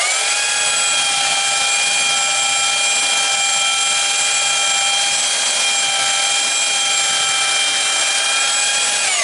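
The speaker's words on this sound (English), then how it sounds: "I'll take my belt sander and sand this" A belt sander runs steadily on the wood of a glider bench, giving a loud, continuous, high-pitched motor whine that holds an even pitch for the whole stretch, with no voices.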